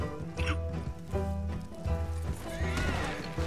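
A horse whinnies and neighs with clip-clopping hooves in the Western video game Red Dead Online, loud and close with layered in-game sounds and no talk.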